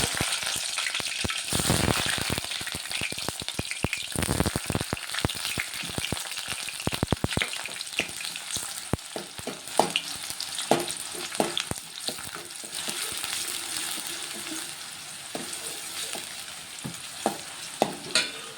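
Chopped onions hit hot oil in a pan for a potato tomato gravy curry, bursting into a loud, continuous sizzle with rapid crackling and spoon-stirring scrapes that gradually settle, no voices.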